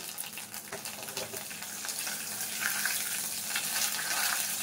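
Mustard seeds and curry leaves sizzling in about two tablespoons of hot oil for a lentil-soup tempering, a continuous bright crackling hiss that builds slightly over the clip.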